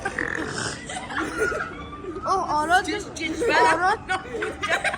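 Burps during a burp contest, heard as long, gurgling belches over lively chatter and laughter from a group of people.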